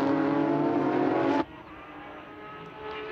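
Porsche GT3 Challenge race cars scream past on a circuit at Algarve, a loud, dense engine roar that cuts off abruptly midway, leaving a quieter distant drone of other cars.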